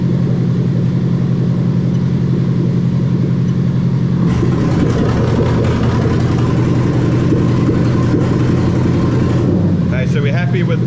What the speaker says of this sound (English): it's going to change the VVT-i, and it's going to make the engine sound terrible.